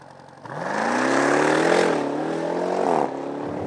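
A supercharged 6.2-litre HEMI V8 in a Jeep Grand Cherokee Trackhawk roars up in a loud rev, its deep growl rising and holding, then dropping back to a lower rumble.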